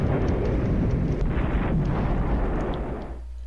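Artillery explosion in a World War era strategy game: a heavy, sustained low rumbling boom with crackling debris, loud and close throughout, then trailing off into a low hum near the end.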